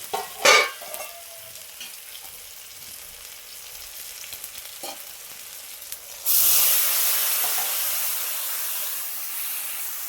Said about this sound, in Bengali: দেখো মশলাটা আমার কষা হয়ে গেছে